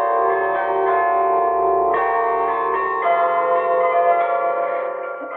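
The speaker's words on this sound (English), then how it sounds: "Right now, we're going to start the bells." Several bells ring together in a sustained, overlapping peal, the Radio Netherlands Worldwide interval signal, loud and resonant, with new strikes layering in every second or so.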